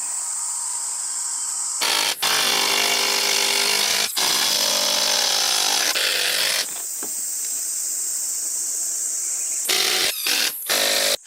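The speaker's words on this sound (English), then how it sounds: "A wooden plank is being placed and secured with screws using a drill" A power drill whines in several bursts, driving screws into a wooden plank holding plywood sheets, with short pauses between runs and quick final zips near the end.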